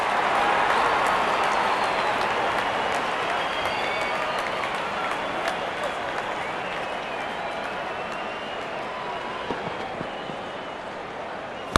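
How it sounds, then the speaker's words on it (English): A cricket stadium crowd roars and applauds a batsman's fifty, a broad, continuous wash of clapping and cheering that stays loud and even throughout, with faint commentary voices in the mix. "Wonderful 50 and the crowd applauds."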